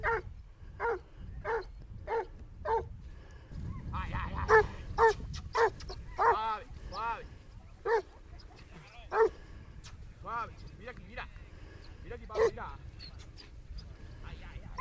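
A hunting dog baying on a wild boar trail, a long series of sharp, evenly spaced barks and yelps at moderate distance, with someone talking over them.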